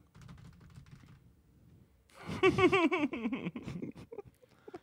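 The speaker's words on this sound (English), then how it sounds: "beating the shit out of his keyboard" Hard, rapid typing on a computer keyboard that has a sticky shift key after a beer spill, loud clattering keystrokes in a dense burst following quieter background sound, with some laughter mixed in.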